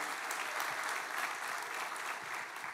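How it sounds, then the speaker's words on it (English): A church congregation bursts into applause, a dense sustained roar of many hands clapping throughout the sanctuary. "would you give a great big hand clap?"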